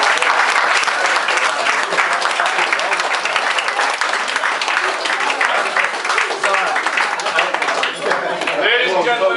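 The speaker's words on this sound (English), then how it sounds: "Please give the biggest round of applause of the day for your groom" Wedding guests applaud loudly after a toast to the bride and groom, a full, continuous round of clapping from a large crowd that stays strong throughout, with a few voices mixed in.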